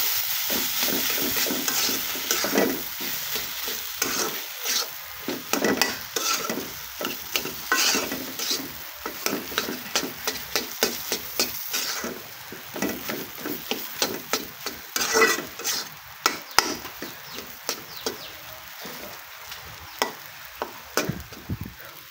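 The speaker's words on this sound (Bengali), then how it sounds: "এখন একটু কষিয়ে নেব।" A potato curry base for rohu fish fries in a pan and is stirred steadily, giving a continuous sizzle broken by repeated scraping strokes of a spoon against the pan, close up with no talking.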